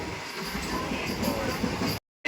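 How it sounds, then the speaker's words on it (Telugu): A local train passes close by, a continuous broadband rumble of rolling rail cars that holds steady for about two seconds before cutting out abruptly. "మన ట్రైన్ వచ్చేసి వెళ్ళిపోతుంది"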